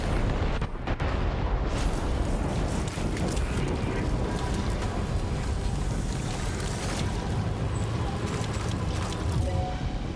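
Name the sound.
weapons firing and explosions in Death Stranding 2 video game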